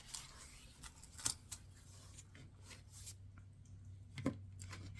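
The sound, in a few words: pages being taken off an old book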